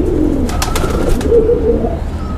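A pigeon held in the hand gives soft, low cooing, a few rounded murmurs close by, with light rustling and handling noise around them.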